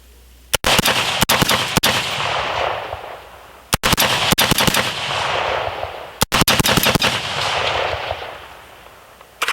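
Suppressed gunfire from a 14.5 inch rifle fitted with a Dead Air Pyro suppressor: three strings of about five sharp, loud shots each, fired in quick succession with pauses between strings and a lingering outdoor echo.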